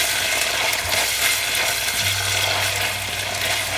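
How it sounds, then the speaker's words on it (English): Onions sautéing in a pan for an egg curry with coconut milk, a steady loud sizzle with a low hum joining partway through, no voices. "We're going to saute this for about a minute or 2 till the onions becomes translucent."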